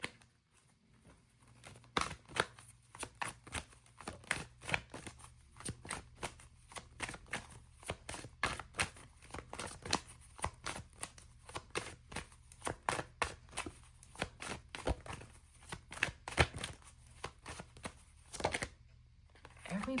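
Tarot cards are shuffled rapidly and repeatedly, a close, quiet stream of crisp riffling snaps with no talking.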